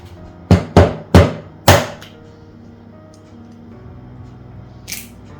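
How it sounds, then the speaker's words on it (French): An egg cracked against a mixing bowl of butter and sugar for homemade cookies, heard as four sharp, close knocks in quick succession, then quiet kitchen background and a faint later click. "on va rajouter un œuf"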